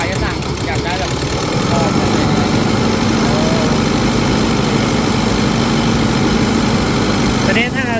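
A generator driven by an Isuzu 1.9 diesel engine running close by, giving a steady, loud, low droning hum with little change across the whole stretch.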